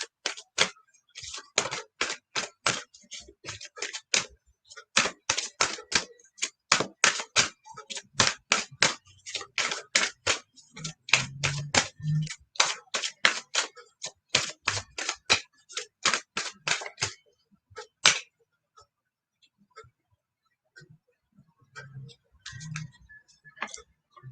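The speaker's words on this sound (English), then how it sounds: "Jen, let me shuffle these Romance Angel cards." Romance Angel oracle cards being shuffled in a rapid series of crisp riffling flicks, close and sharp, stopping abruptly before a few soft taps; a voice speaks briefly near the end.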